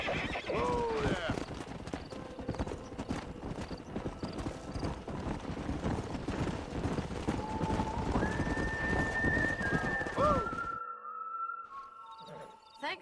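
Horses trotting with a steady clip-clop of hooves in Red Dead Redemption, a horse whinnying loudly at the start, with game music and brief voices underneath.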